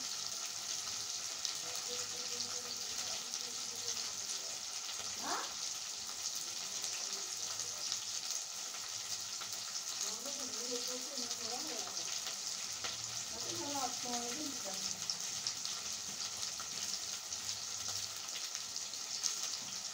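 Okra frying in a pan, a constant soft sizzle that fills the whole stretch, with brief stirring and scraping in the middle and a voice faintly audible under it.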